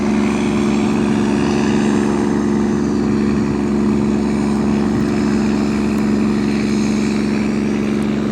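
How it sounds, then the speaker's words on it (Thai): A tugboat towing a long train of barges on the Chao Phraya River produces a loud, constant engine drone with a steady tonal hum, running unchanged throughout without speech. "เพราะเป็นแม่น้ำเขาก็จะลากเรือโยงกันมา"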